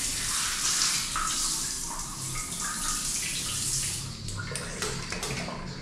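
A bidet sprayer on a second-floor bathroom blasts water hard, producing a loud, continuous, close hiss that holds steady and then breaks into spattering near the end.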